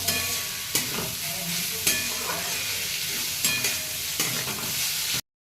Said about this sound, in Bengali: পেঁয়াজটা আমার ভাজা ভাজা হয়ে আসছে